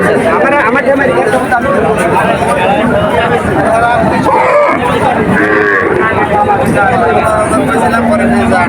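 Cows moo amid the dense hubbub of a busy rural cattle market at Poharadanga in Narail, with loud crowd chatter and voices talking throughout.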